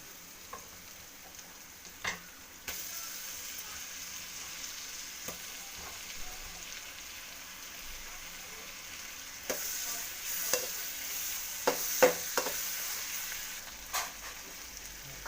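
Onion and tomato frying in a pan for an egg cabbage fry, with soft continuous sizzling broken by scattered spoon clicks and stirring knocks against the pan, one sharper flare of sizzle midway and a busier run of taps near the end.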